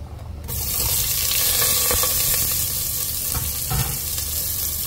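Cinnamon, cardamom, onion and lemongrass dropped into hot oil for a lamb shank curry, a sudden loud sizzle that holds steady, with a few stirring knocks near the pan.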